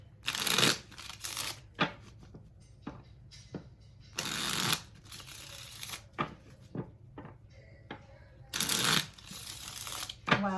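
Slippery tarot cards are handled and shuffled in several bursts of riffling and flapping, separated by softer sliding and tapping, with a voice talking quietly at times.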